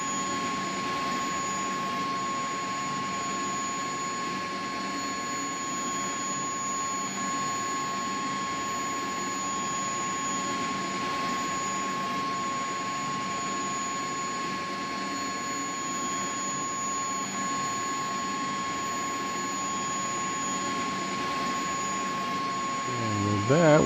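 Auxiliary power unit of a CH-47D helicopter running in the X-Plane 11 flight simulator, a steady loud whine and hum with a fixed high tone that holds unchanged for the whole stretch.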